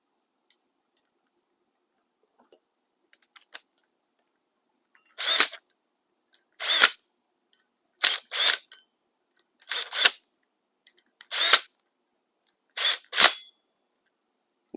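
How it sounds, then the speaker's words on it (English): A power drill driving bolts during a motorcycle chain kit install fires in short, separate bursts, some single and some in quick pairs, with quiet pauses between them and no talking. "we're going to run them with the drill"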